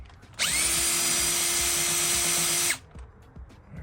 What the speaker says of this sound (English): got a drill with my 10mm on there